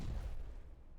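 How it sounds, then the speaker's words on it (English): Explosions go off in the Timberborn video game, a loud booming low rumble that swells at the start and then tails off into a dull continuing roar, with no talk over it. "Explosions."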